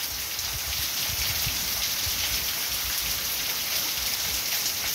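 Heavy night rain pours onto a roof and into overflowing gutters in Amaniutuba, Ceará, Brazil, a dense, steady hiss of drops that is loud and unbroken throughout.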